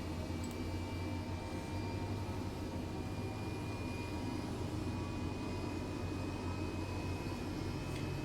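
An Airbus H135 helicopter engine runs in Microsoft Flight Simulator 2020, a steady, even turbine drone with a deep rumble that holds at constant loudness throughout, with no voices.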